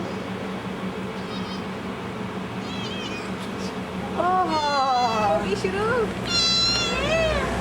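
A cat meows repeatedly in quick, rising and falling calls in the second half, close and clear, while people chat nearby in Hindi and English over steady background noise.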